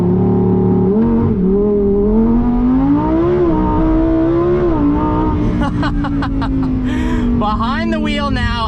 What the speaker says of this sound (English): that naturally aspirated V10 has to be the best sounding modern day supercar